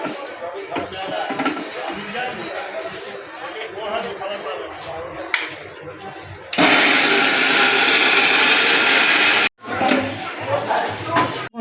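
An electric blender grinds green peas into a paste with a little water, a loud steady whir lasting about three seconds, set between stretches of someone talking in a kitchen.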